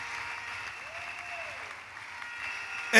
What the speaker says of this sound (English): Put your hands together for Jesus. Don't be tired of clapping for this God.